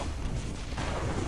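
Rocket explosions in a video game, a dense, continuous barrage of booming, crackling blasts that fill the short stretch loudly with no pause.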